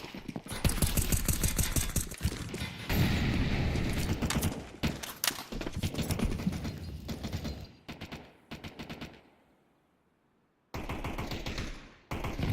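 Rapid AK rifle fire in Counter-Strike 2 during a pro esports match: repeated sharp bursts of loud automatic shots, clustered and separated by short gaps, with one near-silent stretch before a final burst.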